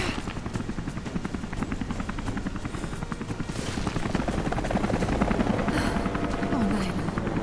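Helicopter rotors thump in rapid, continuous chop in Rise of the Tomb Raider, loud and close, growing somewhat louder midway, with faint game sounds alongside.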